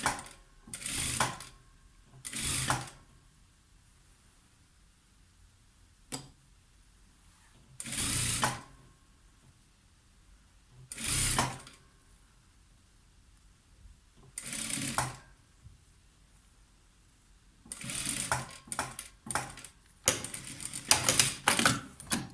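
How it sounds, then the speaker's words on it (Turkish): Sewing machine stitching the second side of a concealed zipper on a flared skirt, running in short rapid bursts separated by quiet pauses, with the bursts coming faster and closer together toward the end. "fermuarımızı ikinci tarafını dikiyoruz"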